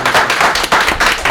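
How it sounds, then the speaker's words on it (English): Close, loud clapping from the audience at a city council meeting, dense and sustained with a few sharper individual claps standing out. "So please give him a hand of applause."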